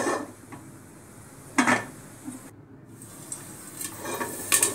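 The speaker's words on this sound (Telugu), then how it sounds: "పాప్కార్న్ స్టార్ట్ అయినాయి" Popcorn kernels bursting inside a pressure cooker on a high flame: a handful of sharp, irregular pops spaced apart, moderately close, over a low steady background hiss.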